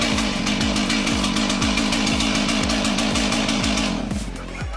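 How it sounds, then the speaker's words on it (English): A battery-powered chainsaw cuts into a tree, its motor buzzing loud and close under a constant high whine with a rapid repeating pulse, then easing slightly near the end. "That chainsaw was still spinning when it dropped."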